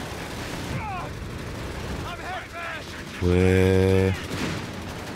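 Dense gunfire and explosions from a World War II battle in Company of Heroes 3, with tanks including a Panzer IV nearby, rumbling steadily throughout while someone talks briefly over it and a loud tonal burst stands out midway.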